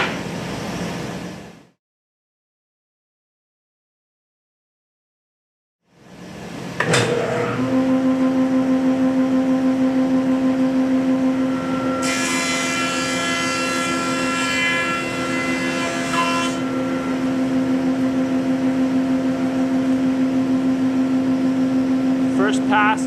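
A woodworking planer starts up after a pause and runs with a steady loud hum and whine, joined by a harsher cutting roar for several seconds in the middle as a board passes through.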